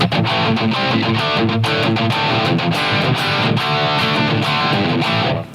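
Electric guitar played through a Line 6 Helix with the Kinky Boost on, giving a loud, dense, heavily distorted sustained tone with rhythmic picked chords filling the full stretch, no talk.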